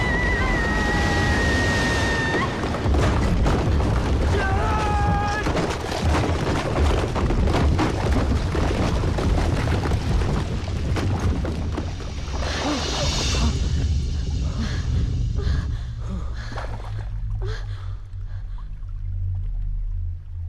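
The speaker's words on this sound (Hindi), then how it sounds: "गोपाल, ग्रेनेड। पिन निकाल दिया है, जल्दी फेंक दो।" Grenade blast in the climax action scene of an Ajay Devgn Bollywood film, a loud, continuous roaring rumble with heavy low-end booms and debris-like crackle filling the whole stretch, with no talk over it.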